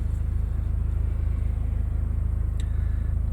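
A parked car idles steadily, its engine a low, even rumble that holds close and constant, with no speech over it.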